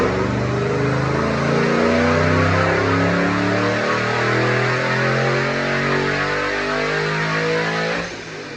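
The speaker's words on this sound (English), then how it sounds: "Check out this dyno pull." A supercharged 2008 Mustang GT with an intercooled Paxton Novi 2200, 93 octane and manual transmission, roars through a dyno pull, loud engine pitch climbing steadily through the gears with a rising supercharger whine before cutting off near the end.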